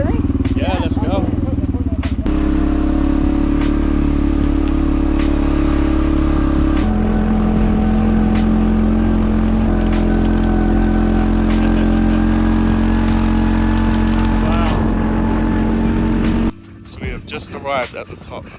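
Vehicle climbing a steep road up to the Vertical Sky Luxury Suites, a cliffside hotel in South America: a steady close engine drone with a shifting pitch and some rattling runs loud throughout, then cuts to quieter rustling near the end.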